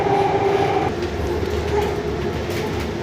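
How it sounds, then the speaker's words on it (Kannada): A Namma Metro train in Bengaluru rumbles loudly and continuously at the station, with a steady mechanical hum and a faint tonal whine fading after the first second. "ನಮ್ಮ ಮೆಟ್ರೋ ರೈಲು ನಿಲ್ದಾಣದಲ್ಲಿರೋ ಮೆಟ್ರೋ ರೈಲು"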